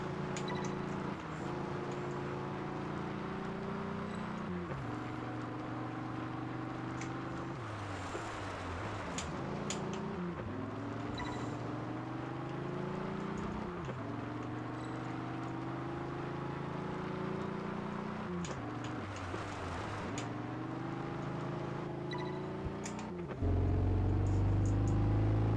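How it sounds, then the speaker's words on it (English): Diesel V12 car engine in the racing game Test Drive Unlimited 2, a steady droning hum whose pitch rises and then drops sharply several times as the gears shift, loud and continuous throughout, with no talking. "this is probably a diesel V12, which is why it sounds like this"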